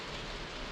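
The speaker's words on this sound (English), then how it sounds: "I don't know if you can hear the rain hitting the roof." Rain drumming on a roof on a cold day, a faint steady wash of patter with no distinct drops standing out and no voices.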